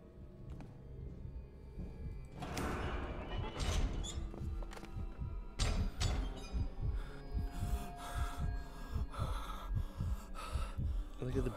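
In the horror video game Case: Animatronics, heavy, rhythmic breathing pulses steadily and close, growing more regular and insistent after a dim, rumbling start.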